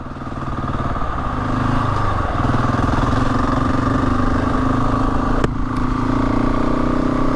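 A Husqvarna 701 Enduro single-cylinder engine thrums loudly and close, pulling steadily with a rapid chugging pulse and a brief sharp click midway, heard with no talking.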